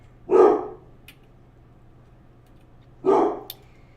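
Indoor dogs bark twice, each a single sharp, fairly close bark about three seconds apart, with quiet in between.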